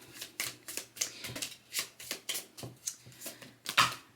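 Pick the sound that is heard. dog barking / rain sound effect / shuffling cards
shuffling cards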